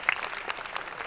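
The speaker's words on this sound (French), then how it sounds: "donc on peut m'applaudir, merci beaucoup" A conference audience at a Toulouse convention applauds, the clapping brief and moderately distant.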